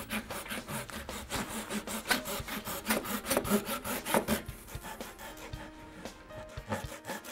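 A hand saw cutting through pine wood in a fast, steady back-and-forth rhythm of rasping strokes, close up, slowing and fading toward the end.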